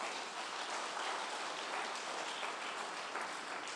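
Church congregation clapping their hands in praise during a worship service, a loud, dense and continuous wash of applause that fills the room with no talk over it.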